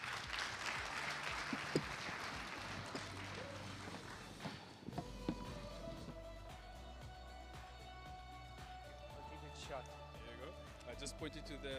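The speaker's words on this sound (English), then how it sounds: "Please give him a warm round of applause." Audience applause at a national ICT summit, a dense burst of clapping in the opening seconds that thins into scattered claps and room noise, with faint background voices and movement under it.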